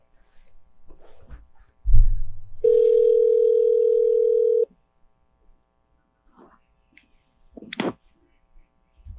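A telephone dial tone sounds during an outgoing call, a steady loud tone lasting about two seconds after a click, surrounded by quiet room noise, a faint murmur and a brief later click.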